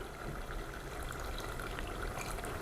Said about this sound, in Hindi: इसके साथ ही हम डालेंगे थोड़ा सा पानी